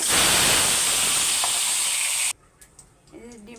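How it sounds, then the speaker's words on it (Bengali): Eggs hit salted oil in a hot wok with a loud, steady sizzle for about two seconds, then the noise cuts off and only faint clatter remains. "প্রথমে তেলে একটু লবণ দিয়ে নিচ্ছি যাতে ডিমটা কড়াইতে লাগে না যায় ডিমগুলো দিয়ে দেবো"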